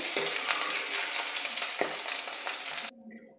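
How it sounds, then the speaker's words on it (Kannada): Potatoes fry in oil until crisp, making a dense, close sizzle with a few stirring scrapes before it cuts off sharply near the end into quiet. "ಅದೇ ಎಣ್ಣೆಲೇ ಆಲೂಗಡ್ಡೆನ ಸೇರಿಸ್ಕೊಳ್ತೀನಿ ಈಗ ಆಲೂಗಡ್ಡೆನೂ ಸಹ ಕ್ರಿಸ್ಪಿಯಾಗಿ ಫ್ರೈ ಆಗಿದೆ"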